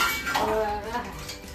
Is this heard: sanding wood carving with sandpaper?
no